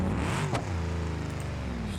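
A car engine in the game BeamNG hums and revs steadily, its tone sliding slightly, with a brief thump partway through.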